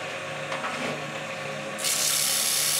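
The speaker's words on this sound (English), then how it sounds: "You could all do all this with a spindle roughing gouge just as easily." A spindle roughing gouge cuts steadily against spinning wood on a lathe, a continuous close rasping hiss that grows louder and brighter toward the end.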